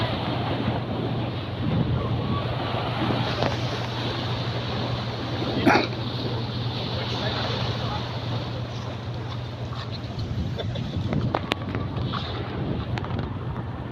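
Wind and rough surf along a village shoreline where boats have pulled in to shelter, a steady broadband roar with gusting buffets on the microphone throughout, continuous and fairly close.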